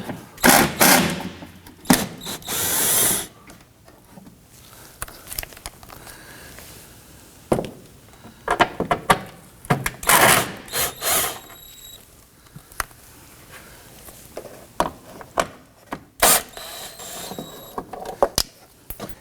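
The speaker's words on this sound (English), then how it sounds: "6 10mm bolts running around the inside of the fender liner here. We're going to loosen and remove these." Intermittent ratcheting and clicking bursts from loosening and removing 10mm bolts on the front inner fender liner of a 2018-2024 Toyota Camry, with sharp tool clatter separated by quiet pauses and faint background hum.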